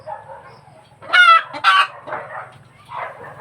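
Native chickens cluck and a rooster gives short crowing calls, close by, with soft low rumbling in the background.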